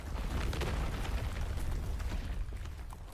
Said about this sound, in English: A loud explosion erupts on a distant hillside.